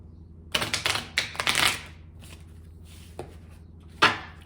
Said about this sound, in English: Let's shuffle a little bit more here.